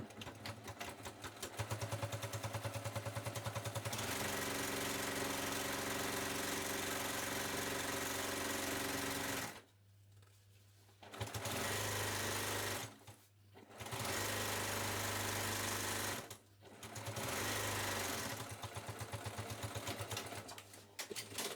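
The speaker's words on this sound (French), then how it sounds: "une couture au point droit, tout simplement" Sewing machine stitching a straight seam about 2–3 mm from the edge of a lined, waterproof beach bag, running in steady loud bursts separated by brief pauses, with no talking.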